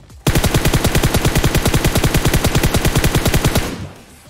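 Rapid automatic gunfire in the mobile game PUBG Mobile, one loud sustained burst of evenly spaced shots lasting about three seconds before cutting off.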